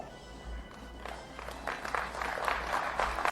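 Scattered, sparse clapping from an audience at a college event at Morehouse, building slightly toward the end; a thin, polite smattering of hands rather than full applause, with some crowd murmur.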